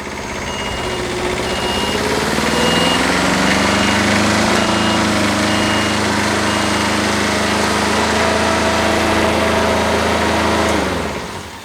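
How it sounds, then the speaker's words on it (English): CTE Traccess 230-75 spider lift driving on its tracks under remote control, a loud steady engine and hydraulic drone ramping up, holding for several seconds, then cutting off abruptly. "And now the machine's going to drive with the remote."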